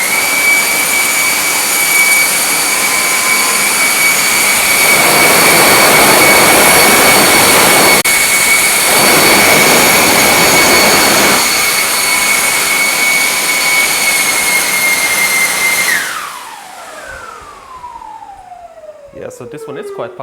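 An electric motor spinning a propeller under a VESC 75/300 controller runs at a loud, steady whine with strong rushing airflow for about sixteen seconds, then spins down with a falling pitch and fades to quiet.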